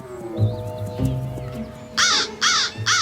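An American crow caws three times in a harsh, evenly spaced run. The calls are loud and close over a low hum and faint background noise.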